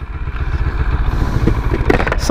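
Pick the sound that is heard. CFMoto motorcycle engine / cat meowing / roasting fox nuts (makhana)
CFMoto motorcycle engine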